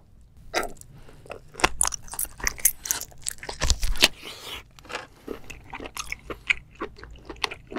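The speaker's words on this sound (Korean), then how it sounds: "이 머리를 한번 씹어볼게요." A whole seafood head in black bean sauce is chewed up close, giving loud, irregular crunches, cracks and wet crackling bites in a steady chewing rhythm.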